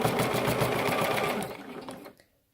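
A sewing machine back-stitches the seam of a fabric cover, a fast rhythmic needle clatter running close and steady before slowing and stopping, with no speech.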